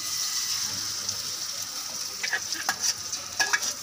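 Chopped onion and green chilli being mixed into omelette batter in a bowl: a steady hiss underneath, then a run of quick, irregular tapping and scraping strokes near the end, with no speech.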